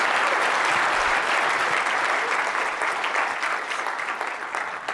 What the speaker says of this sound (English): Thank them for coming. Clap, clap.